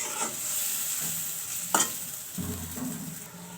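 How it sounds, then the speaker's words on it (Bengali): Spices are being sautéed and stirred in a pan ahead of a pumpkin curry, giving a steady low sizzle with a few scraping spoon strokes and one sharp clack near the middle. "এখন মশলাগুলো একটু কষিয়ে নেব"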